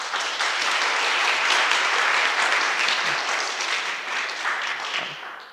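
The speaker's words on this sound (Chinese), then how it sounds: "我还是希望我们在这边可以掌声感谢她" Sustained audience applause at the opening of the g0v Summit 2020 in Tainan, a steady dense wash of clapping from a full room that holds for several seconds and tapers slightly near the end.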